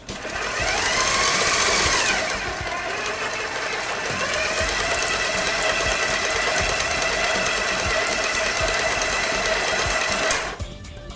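A stand mixer with a tall bowl kneads tortilla dough, its motor whirring loud and steady with a rattling mechanical drone for about ten seconds before cutting off near the end.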